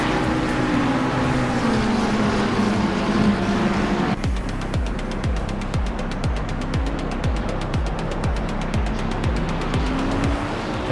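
A GT race car in Assetto Corsa Competizione on a wet Silverstone track on dry tires slides wide onto the curb, with a loud, continuous engine roar, a downshift and rapid rhythmic rumbling as the tires bounce over the kerb.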